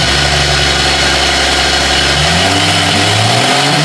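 A small-turbo car engine idles with a loud, steady drone, then revs up partway through, its pitch climbing and holding high, heard close with no talk.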